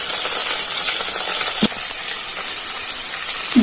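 Black cumin (nigella) seeds crackle in hot oil in a wok, a loud, dense, steady sizzle with a single sharp clink partway through.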